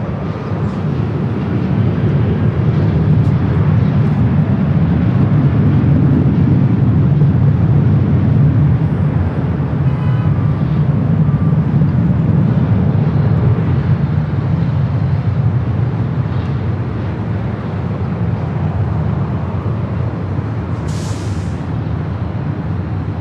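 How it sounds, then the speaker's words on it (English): A Southwest Boeing 737-700 roars down runway 24 left at LAX on its takeoff run, a loud sustained low jet rumble heard from nearby, holding steady before easing off slightly. "Again, the 737-700 taking off to San Jose."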